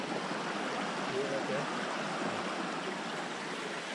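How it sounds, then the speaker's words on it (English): A small creek flows through remote Alaskan wilderness far from any road, giving a steady, even rush of water that stays constant throughout with no other sounds. "Got us a little creek."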